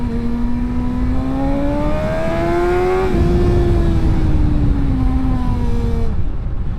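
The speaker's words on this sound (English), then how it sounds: "to try to give you a sense of like the roll-on power, like from 50 miles an hour in second gear" A BMW M1000XR superbike rolls on hard from 50 mph in second gear, its engine note climbing steadily in pitch as it accelerates with traction control engaged, loud and close over rushing wind, with a brief shift partway through and no talk.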